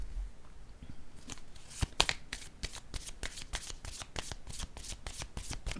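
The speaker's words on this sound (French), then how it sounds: "Je vais piger une autre carte." Tarot cards being shuffled by hand to draw another card, a run of crisp riffling flicks and snaps in quick succession, close and fairly quiet, with no talking.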